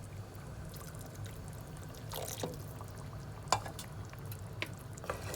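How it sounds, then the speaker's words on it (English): About half a cup of water pours steadily into a Moroccan chicken and carrot tajine, a soft continuous liquid rush with a few small splashes and clinks over a low background hum. "So we're going to add in some water, about half a cup"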